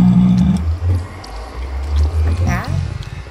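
A lava cat creature from the MC Eternal Minecraft modpack in the Nether lets out a brief rising meow-like cry, heard under steady talking and a low rumbling game background.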